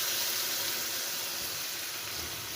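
Taro pieces hitting hot spiced oil in a frying pan, a steady close hiss of sizzling that fills the clip evenly with no pauses.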